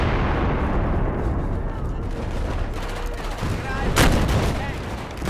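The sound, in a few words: gunfire in Battlefield 4 multiplayer video game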